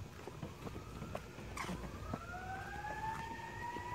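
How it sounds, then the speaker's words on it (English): Emergency vehicle sirens wail faintly outside, distant rising and falling tones over low indoor room noise with scattered small knocks. "what are the sirens about?"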